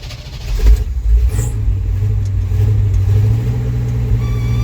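An old one-ton pickup truck engine runs with a low, rumbling drone, revving briefly early on before settling into a steady idle.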